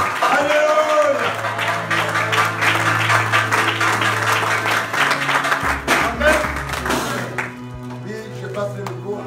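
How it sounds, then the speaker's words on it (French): A church congregation at a Sunday worship service applauds and cheers steadily throughout, its clapping blended with loud music and voices. "Nous acclamons le Seigneur car il est Dieu. On acclame le Seigneur."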